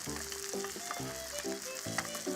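Butter frying in a pan under flatfish fillets while being spooned over them, a steady close sizzle with repeated stirring and scraping strokes throughout.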